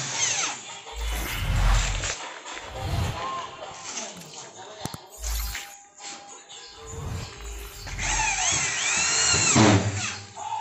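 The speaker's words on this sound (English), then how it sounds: "He is inserting self-drilling fiber cement board skew with drilling machine." Drilling machine driving self-drilling screws into fiber cement board on a light-gauge steel frame building; several short whirring bursts with pauses and knocks between them, close and loud, with a voice heard intermittently.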